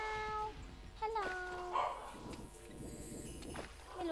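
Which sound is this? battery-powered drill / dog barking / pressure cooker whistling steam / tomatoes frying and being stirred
dog barking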